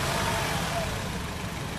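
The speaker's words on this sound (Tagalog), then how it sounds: "tapos pa-start ko itong makina" A Honda CR-V engine, parked for an oil change and running with a rough misfire, idles steadily with a low mid-range drone that fills the short stretch, while a voice talks over it.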